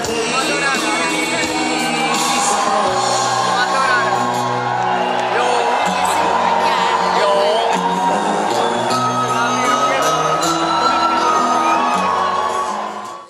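A festival crowd in front of the stage at Rock for People cheers, whoops and shouts continuously over loud live band music, a dense, sustained roar of voices.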